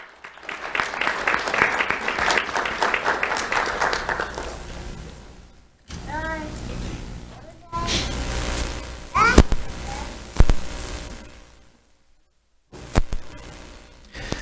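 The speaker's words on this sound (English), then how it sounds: "Let's have a round of applause for Jonathan Palamino." An awards ceremony audience claps for a middle school honoree, a burst of steady applause lasting several seconds and then fading, followed by assorted shorter noises and quiet gaps.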